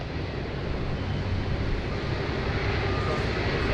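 An airliner departs Sydney Airport in heavy rain, a steady broad roar of jet engines blending with rain noise, even and sustained throughout.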